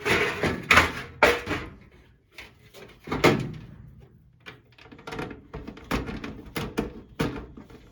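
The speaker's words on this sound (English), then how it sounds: "we're gonna put the doors on and fire it up" Metal panel doors of a Goodman furnace are fitted on during installation, giving a series of close, irregular knocks, thunks and rattles.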